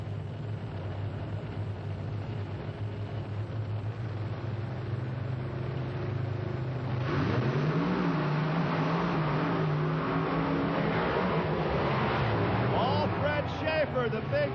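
Drag racing at Lima, Ohio, with the Big Dodge Barefoot making a winning 4.72 run: steady engine roar at a distance that swells and rises in pitch halfway through, with an announcer talking over it throughout.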